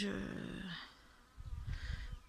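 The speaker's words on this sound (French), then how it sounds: "c'était un petit moustique, une petite bébête" A small mosquito or tiny insect whines close by among beehives, a thin buzzing that drifts in and out over about two seconds, with faint low rumbling beneath.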